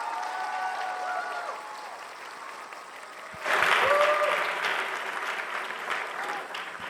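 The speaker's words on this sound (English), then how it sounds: "A little round of applause, Jim." Audience applause at a live talk event with a crowd, a steady wash of clapping that swells louder partway through, with voices talking faintly over it.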